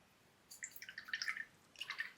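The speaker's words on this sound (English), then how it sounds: "Rinse my brush" A watercolor paintbrush is swished in a water pot. Faint, close clusters of light drips and tinkling splashes come in two short bursts, with quiet background between them.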